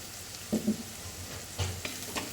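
Onions sauté with salt in a pan for a dal makhani, a faint steady sizzle broken by a few soft stirring scrapes, close and without voices.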